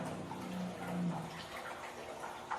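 Water is stirred and aerated in a container, a soft, continuous sloshing and bubbling with faint drips, fairly quiet and close, with no speech.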